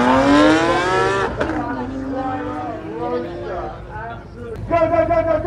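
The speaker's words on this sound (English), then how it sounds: "Here comes the Lamborghini Aventador SVJ Roadster" A Lamborghini Aventador SVJ Roadster accelerates hard past the crowd at a supercar festival, its engine note climbing loud and close through the gears before easing away, with excited voices over the top.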